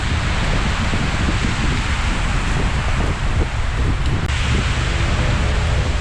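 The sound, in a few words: wind blowing outdoors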